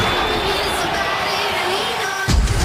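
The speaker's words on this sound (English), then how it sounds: "What a moment, just listen to this crowd." A packed football stadium crowd roars at a Saints preseason game against the Texans, a broad, steady cheering din that swells with a sharp thump near the end.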